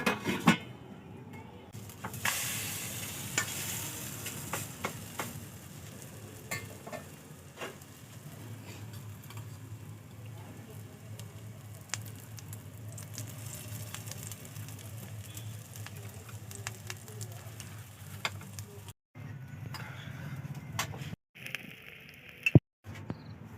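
Flatbread frying in mustard oil under a covered pan, a continuous faint crackling sizzle with scattered pops, briefly interrupted by a couple of short clunks near the end, no talking.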